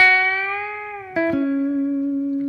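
A single electric guitar note bends upward and settles, then a quick pull-off drops it to a lower sustained pitch, clean and close.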